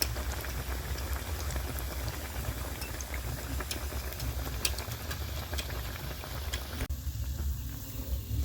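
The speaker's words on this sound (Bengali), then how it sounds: "তো পকোড়াগুলো ভেজে তুলে নিচ্ছি" Chicken pakoras frying in hot oil give a steady, dense bubbling and crackle with scattered sharp pops, continuous and fairly soft, with a slight drop in the hiss near the end.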